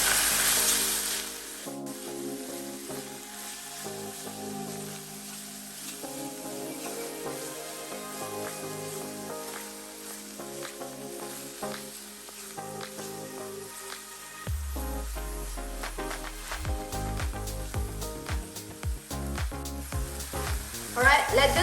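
Ground meat frying in a pan with softened onion and garlic for a shepherd's pie, giving a steady crackling sizzle that runs under background music and grows busier toward the end.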